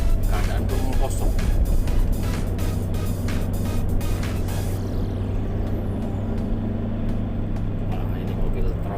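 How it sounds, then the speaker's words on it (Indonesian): A long, empty tronton heavy truck passes along a quiet city street in Palembang, a loud continuous low engine rumble with road noise swelling and easing as it goes by, speech-like voices faintly mixed in. "Ini mobil tronton panjang."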